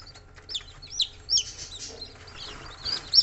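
Golden bantam chicks cheep in a run of high, thin peeps, some louder and nearer than others, over faint background noise.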